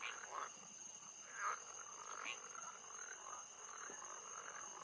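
Frog croaking in the puzzle game Rusty Lake: Paradise, a few short rasping croaks spaced apart over a steady faint background hum.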